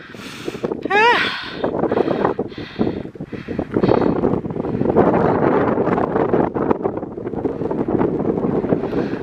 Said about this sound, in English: Just come up over this hill and the wind hit.